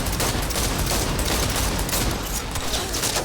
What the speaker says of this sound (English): How many times are you gonna fucking shoot somebody?